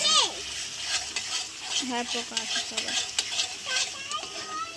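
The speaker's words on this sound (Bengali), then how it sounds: "মিট মশলা দিয়ে ভালো করে কষিয়ে নিচ্ছি" Potato and elephant yam with spices and meat masala fry in oil while being stirred hard, giving a busy hiss with frequent scraping strokes and a faint tonal, voice-like sound running underneath.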